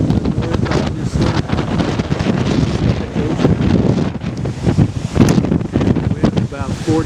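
Strong coastal wind of about 40 to 50 mph at San Simeon roars continuously and loudly across the microphone, with heavy buffeting and surf-like rushing that never lets up.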